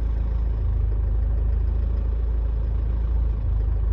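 A Toyota engine idles smoothly at about 800 rpm, giving a steady low rumble that stays even for the whole stretch.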